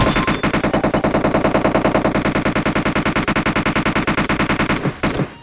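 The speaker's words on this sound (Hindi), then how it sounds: "फिर वो बंदा मेरे पे लगातार फायर कर रहा था" Rapid automatic gunfire from the video game PUBG Mobile rattles in a loud, continuous burst of evenly spaced shots for about five seconds, then stops abruptly.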